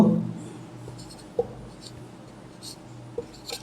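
Numbers are written by hand during a math lesson on fractions: faint, close pen or chalk scratches come in short strokes with a few light taps, and there is no talk.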